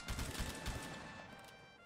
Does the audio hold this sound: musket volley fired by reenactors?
yes